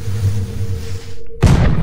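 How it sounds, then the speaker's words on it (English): A cannon fires in the Henry Stickmin video game, a sudden loud broadband boom that cuts in after a brief hush, following a low droning game soundtrack. "Cannon."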